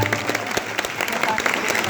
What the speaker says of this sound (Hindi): तो उस पिता के लिए भी एक जोरदार तालियां बजा दीजिए आप लोग